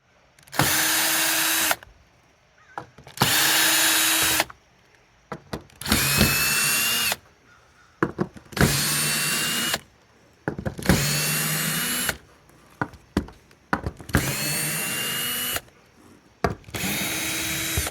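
A power drill drives screws into a metal roof panel on a bathhouse in repeated loud bursts of a few seconds each, separated by short quiet gaps.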